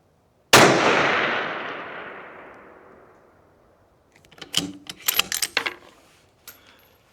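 One loud rifle shot at a target cracks sharply and rings out in a long fading echo, followed a few seconds later by a quick series of close metallic clicks and clatters.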